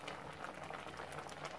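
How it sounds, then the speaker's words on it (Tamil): Paneer butter masala gravy boiling in a pan, a soft continuous bubbling and popping, faint and close, with no talk. "இது நல்லா கொஞ்சம் கொதி வரட்டும்"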